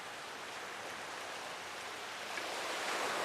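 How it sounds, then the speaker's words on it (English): Steady broadband rushing water spray from a spinning globe model being wetted, continuous and fairly loud, swelling slightly toward the end, with no talking. "look at all that water flying off of here"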